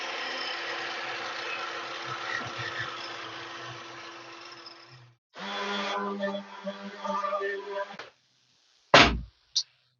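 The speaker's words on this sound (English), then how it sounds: "after a lot of sanding, which actually wasn't too terrible this time around" A power sander working wood whirs steadily for several seconds, stops, then runs again with a rougher grinding tone before cutting off; a couple of sharp knocks follow.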